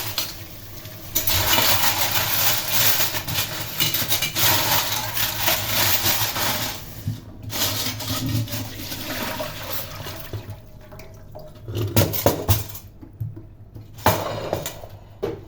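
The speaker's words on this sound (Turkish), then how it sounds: "Deterjan olmadığı için 3 su durulayacağım." Tablespoons and teaspoons are rinsed under a running kitchen tap after soaking in tea, vinegar and baking soda, giving a steady, close gush of water with faint metal clinks that breaks into splashy, uneven pouring and brief pauses toward the end.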